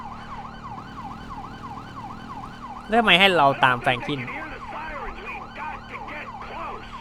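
A police siren wails in Grand Theft Auto, its rising and falling tone cycling steadily as it grows louder and closer, while someone speaks over it and engine noise hums underneath.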